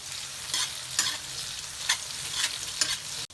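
Chili frying in hot oil with caramelized onions, a steady crackling sizzle with soft scraping stirs at regular intervals and a sharp knock near the end, no talk.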